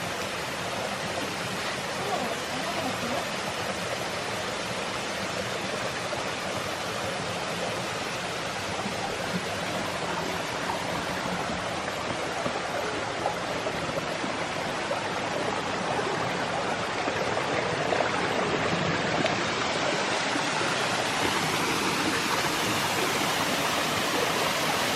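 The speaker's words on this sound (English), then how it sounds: "plenty of water flow up here" Ingalalla Falls in Second Valley, flowing strongly after a cold, wet year, makes a dense, continuous roar of falling water that stays loud and unbroken throughout, with no talk.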